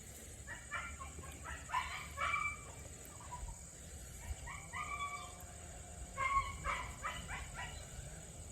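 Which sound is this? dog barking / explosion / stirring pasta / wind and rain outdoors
dog barking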